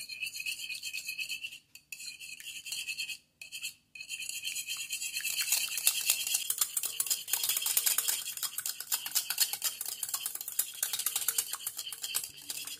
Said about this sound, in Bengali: এবার এই ডিমটাকে আমি খুব ভালো করে ফেটিয়ে নেব।